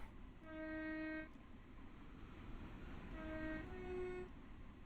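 Two long horn blasts from a GWR Class 166 diesel train in Train Sim World 2020, the first about a second long and the second longer, over a low rumble of the running train.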